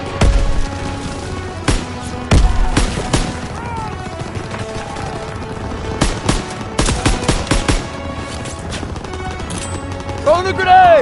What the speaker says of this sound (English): Throwing the grenade!